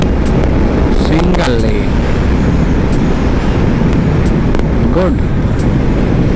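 A Honda CB350 motorcycle rides along a wet monsoon road, its steady engine drone and road noise filling the scene continuously up close while a rider speaks briefly over it.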